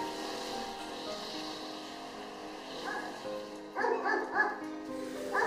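Many dogs bark and yip in the runs for elderly dogs at a dog shelter, a steady overlapping chorus with a louder burst of barking near the end.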